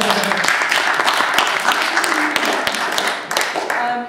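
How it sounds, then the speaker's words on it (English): Loud, continuous clapping from an audience follows a speaker's remarks. A few scattered voices sit underneath. "let's have a round of applause"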